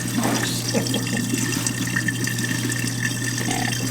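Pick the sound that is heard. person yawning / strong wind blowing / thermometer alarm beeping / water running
water running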